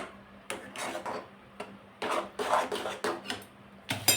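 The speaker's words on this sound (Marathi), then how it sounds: "हे जे पातेलं आहे रव्याचं ते धुवून असं टाकते बघा" Washing a cooking pot used for semolina, water swishing and the pot rubbing and clanking in bursts, close by with no talk.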